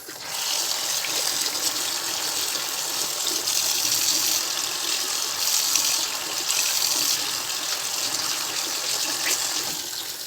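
Water runs steadily from a tap as a beauty blender makeup sponge is rinsed under it, a loud continuous gushing hiss with slight changes as the sponge moves through the stream.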